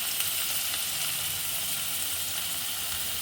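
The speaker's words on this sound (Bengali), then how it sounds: "পনিরগুলো একটা একটা করে ভেজে নিচ্ছি" Paneer pieces frying one at a time in hot oil in a kadai, a steady dense sizzle that stays loud and even throughout with no voices.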